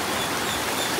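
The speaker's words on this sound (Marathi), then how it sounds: "एवढा पाऊस पडतो. पाऊस बघा आम्ही चालतो." Heavy rain driven by strong wind, a dense steady hiss of falling water close by with no breaks, heard for a brief moment.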